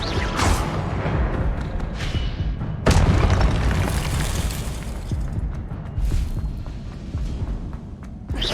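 Expelliarmus spell cast in a Hogwarts wizarding video game, a series of deep booming blasts with sharp onsets over a constant rumbling background, loud and close.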